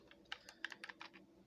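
Rapid computer keyboard typing: about a dozen crisp keystrokes in an uneven burst, close and clear against a quiet background with no talking.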